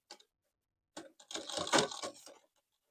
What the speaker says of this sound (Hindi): फ़ोल्ड करने के बाद हम इस पे सिलाई लगाएँगे।